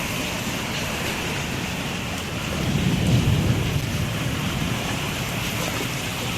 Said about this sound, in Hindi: गाइस रात को फिर से आ गया है तूफान।